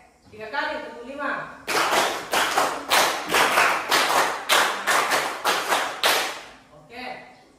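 Fifteen crisp hand claps in three brisk groups of five, close and evenly paced, with a voice speaking just before and after the clapping.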